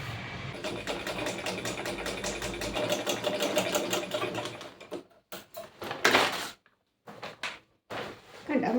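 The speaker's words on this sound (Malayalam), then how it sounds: "ഞാൻ തയ്ച്ചിട്ട് വരട്ടെ." Sewing machine stitching a grow bag sheet, a fast steady mechanical whir for several seconds, then short start-stop bursts with pauses, close by.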